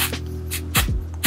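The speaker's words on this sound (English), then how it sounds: "I color mines with like a dark hairspray" Short bursts of L'Oreal Magic Root Cover Up dark hairspray hiss at close range onto a wig's lace, several quick sprays in a row over a steady low hum.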